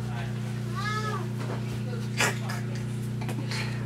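A rescue cat meows once, clear and close, over a steady low electrical hum, with a few small clicks and rustles after it.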